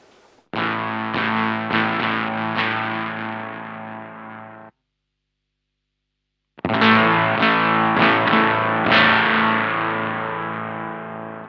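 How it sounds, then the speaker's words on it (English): An electric guitar through a Pigtronix OFO Disnortion pedal's octave effect, fuzz off, chords ringing with a doubled, slightly warbly tone, then a pause and a second strummed passage, loud and alone. "Now let's turn off the fuzz and have a look at the octava by itself."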